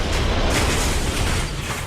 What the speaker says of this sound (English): the sugar dust contacted a nearby ignition source, likely an overheated bearing, and exploded.